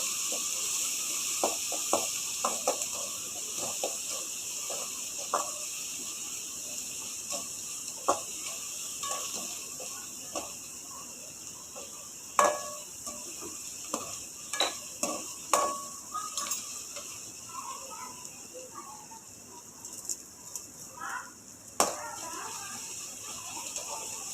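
Onions sizzle softly as they sauté in a pan, with scattered clinks and scrapes of a utensil stirring, steady and close, no talking.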